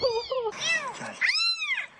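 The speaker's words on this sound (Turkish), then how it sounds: "Kendisine YouTube'dan dinletilen kedi sesine kayıtsız kalamadı." A cat's meow is played back from a phone during a rescue of a kitten trapped in a narrow gap, giving a few clear, close, drawn-out meows with rising and falling pitch, with no talk over them.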